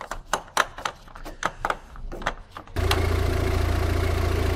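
A Volvo S60 engine cranks with a rapid, uneven chugging, then catches and settles into a loud, steady idle rumble.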